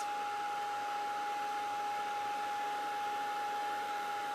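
A handheld craft heat tool blows a steady, loud hot-air whoosh with a constant whining hum over craft powder, running unbroken and close by with no talk.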